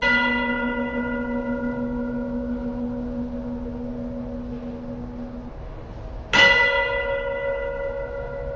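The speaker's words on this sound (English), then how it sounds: "testing the frequency of the church bells chiming" Church bells toll in two distinct strikes, each with a long ringing decay of layered tones, the second strike landing loudly after a few seconds while the first still fades.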